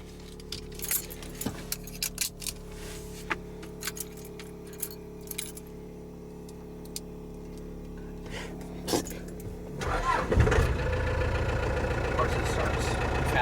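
A Bullnose Ford F350 project truck at night, keys jangling close by before the engine turns over at about ten seconds and settles into a steady, fairly loud idle rumble.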